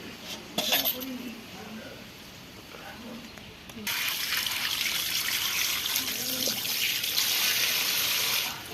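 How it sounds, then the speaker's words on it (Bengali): Pieces of catla fish are rinsed under a running kitchen tap, beginning with quiet clinks and trickles, then a loud steady rush of water from the halfway point, with occasional knocks of dishes. "এবার মাছগুলো ভালো করে ধুয়ে নেবো"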